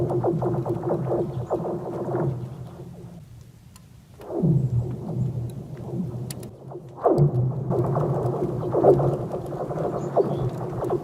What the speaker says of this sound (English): A frozen lake that makes strange noises that sound like the lasers from Star Wars.